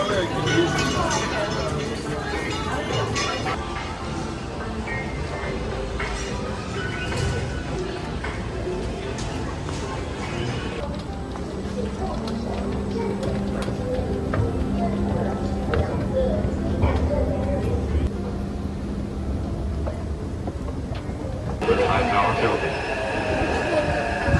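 A metro train heads toward Taipei 101 in Taiwan, with a steady rumble and rattle of the carriage, some shifts in the hum as it moves, and people talking throughout.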